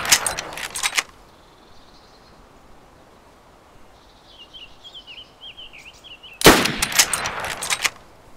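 Two loud, sharp bursts of gunfire in the video game DayZ, at a military base, open and close the stretch, with quiet ambience and faint chirping tones between them.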